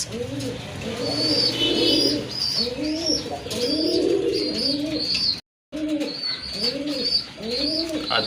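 Feather-footed pigeons cooing close by in repeated soft, throaty rolling calls, overlapping in a steady rhythm with a brief gap midway.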